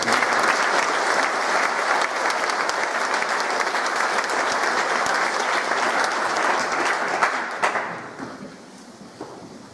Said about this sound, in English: One round of applause for those prize winners